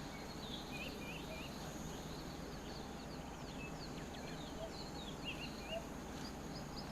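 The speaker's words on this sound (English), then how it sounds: "if you hear birds today, they're going to be definitely coming from the cameras." Birds at a waterhole come through a live camera feed as faint, scattered chirps and short calls over a steady low hum and hiss.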